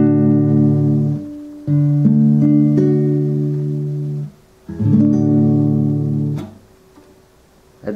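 A guitar strums a basic open chord, a few full ringing strums that sustain and fade, heard close and alone without talking.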